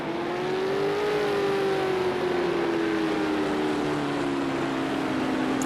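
A race car engine drones loudly and continuously nearby, its pitch sagging gradually as the car downshifts and slows for braking, with no voices over it.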